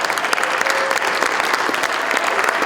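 Dense, steady audience applause fills a performance hall at a live stage show, many hands clapping continuously and loudly throughout with no pauses.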